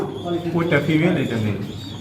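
A male Mundian pigeon coos nearby in low, throaty pulses under a murmur of voices.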